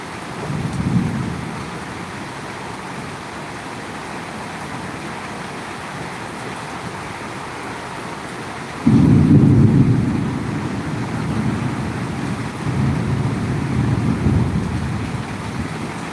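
Steady rain pours down through a thunderstorm in Bangladesh, a continuous wash of falling water that swells suddenly louder partway through and stays heavy, with rumbling low energy beneath and no voices.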